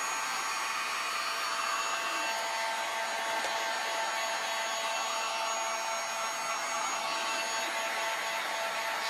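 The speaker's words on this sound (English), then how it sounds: "Can do it with a hairdryer, that's supposed to make much more controlled." A hair dryer blows steadily at close range on heat shrink tubing, a constant airy whir with no pauses.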